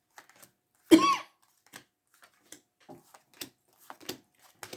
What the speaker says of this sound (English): Never cough until I start doing the reads